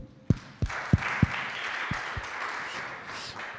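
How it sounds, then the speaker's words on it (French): A small audience at a training demo day applauds a trainee: a few sharp, separate claps at first, then a soft, blended wash of clapping that fades, with no one speaking. "Victor qui est là, vous pouvez l'applaudir"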